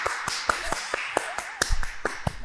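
A church clap: a quiet run of sharp, evenly spaced hand claps keeping a brisk, steady rhythm for a couple of seconds, with no other sound around them.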